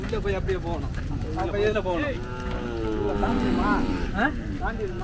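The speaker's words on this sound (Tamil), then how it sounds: "மாடு வாங்கிட்டு வர்றாங்க" Native cattle at a busy livestock fair in Kannapuram low repeatedly, several moos overlapping at mid distance over a constant crowd murmur and nearby talk.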